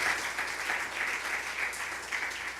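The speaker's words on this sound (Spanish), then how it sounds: "Denle un aplauso a Cristo, mi hermano." Church congregation claps together during a sermon, a fairly soft, steady applause with slight swells, heard alone without voices for a couple of seconds.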